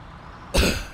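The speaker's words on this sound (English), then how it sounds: "Sorry about the coughing." One short, harsh cough bursts out close up after a moment of quiet, then trails off into a brief throat-clearing rasp.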